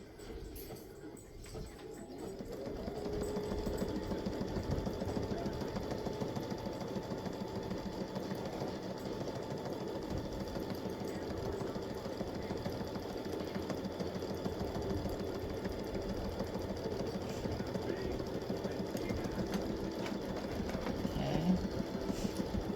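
A sewing machine stitches a quilt panel at a deliberately slowed speed, its needle thumping in a steady, even mechanical rhythm close by with no talking.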